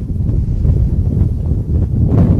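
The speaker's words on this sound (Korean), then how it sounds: "이놈의 바람." Strong wind buffeting a microphone at a bass fishing spot on a river, a loud, continuous low rumbling roar that swells and eases slightly, with no talking.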